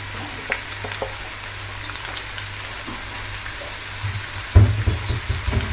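Popcorn shrimp drop into hot oil for Jamaican-style cooking, setting off a steady close sizzle that swells into louder crackling bursts near the end, with no talking.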